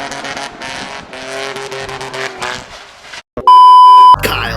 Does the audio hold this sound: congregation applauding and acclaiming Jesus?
no